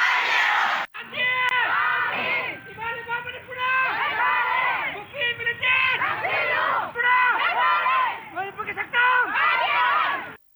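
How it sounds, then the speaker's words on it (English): Protesters at a demonstration in Manipur chant slogans in unison, loud rhythmic group shouting in repeated bursts with brief pauses, close and dominant throughout. "The protesters also shouted various slogans."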